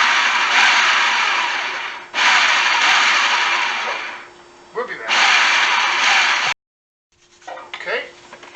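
A food processor pulses milk into a mixture with several short, loud whirring motor bursts. Each burst stops abruptly, with brief rattling and quiet gaps between them.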